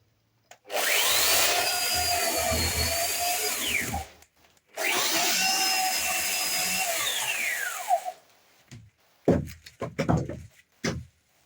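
A Husqvarna Electronic 1600 electric chainsaw cuts through wood in two loud, sustained bursts of about three seconds each, its motor whine dropping at the end of each cut, followed by scattered knocks and clatter.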